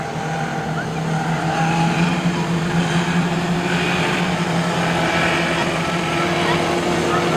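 Race cars roar in a pack around the Gulf Coast Speedway oval during a B-main event, a steady, loud engine drone with rising and falling pitches as the field runs at speed, and a voice is faintly present under the noise.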